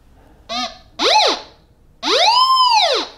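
A GMT 9000 gold detector (Goldmaster 24K) sounds its signal tone for screwdriver iron: three separate rising-and-falling electronic whoops, a short chirp, a quicker sweep, then a longer arching wail, loud and clear with no talk.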